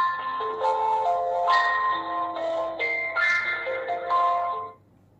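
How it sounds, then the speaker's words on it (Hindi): Fire-Boltt Phoenix Ultra smartwatch sounding its find-device alert: a bright, close electronic melody of stacked tonal notes repeating for about five seconds, then cutting off to silence, with no talking. "आपकी वॉच में बजेगा टोन"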